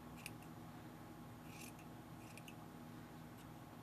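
Scissors trim stray yarn strands on a crocheted pom-pom, a few faint, quick snips spread across a steady background hiss, close but quiet.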